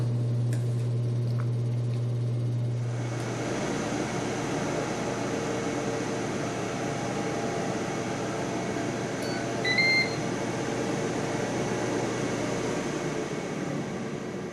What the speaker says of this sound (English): We can now close the lid and resume cooking.